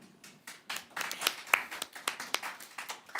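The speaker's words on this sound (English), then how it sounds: "Round of applause again." Scattered applause at a crypto conference in Tallinn, a smattering of claps from a small audience, fairly faint and uneven, rising briefly and then tapering.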